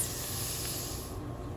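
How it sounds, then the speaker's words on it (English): Pak choi stirred with black pepper steams in a pan, giving a steady, soft hiss that holds evenly throughout at low volume, with no talking. "Stir black pepper into pak choi, then leave to steam for 2 minutes."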